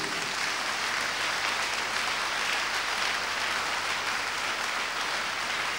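A church congregation applauding to acclaim Jesus during a fasting and prayer service, a dense, steady roar of many clapping hands that stays loud and even throughout, with no speech over it.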